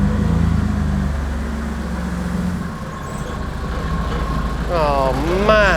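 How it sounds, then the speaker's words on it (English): A 1950s Willys civilian farm pickup truck runs with a low, steady engine rumble nearby, and a person speaks briefly near the end. "That is a truck."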